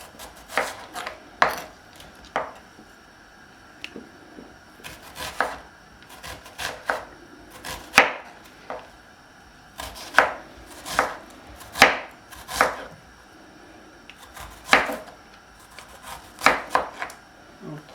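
Onions being chopped on a kitchen board, a long run of crisp knife strikes in irregular clusters, close and clear with no talking.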